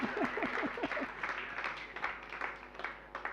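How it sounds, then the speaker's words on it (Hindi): Scattered clapping from a religious discourse gathering in Jahajpur, starting under a few trailing voiced sounds and settling into loose, uneven hand claps that stay fairly quiet. "एक बार अपने लिए तालियां बजा लो ना"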